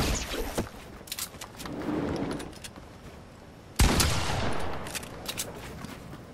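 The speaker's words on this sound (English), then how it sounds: "heavy shotgun" A heavy shotgun in Fortnite fires in loud booming blasts, with one especially sharp shot partway through, over background game noise and no talk.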